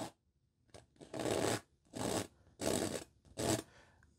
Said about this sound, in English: Let's scrape some of that out.